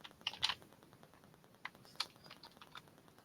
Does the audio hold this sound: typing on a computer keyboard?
yes